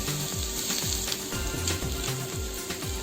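Garlic sizzles in hot oil while being fried for honey ginger chicken fried rice, giving a loud, continuous hiss and crackle with a faint rhythmic scraping or stirring underneath, and no voices.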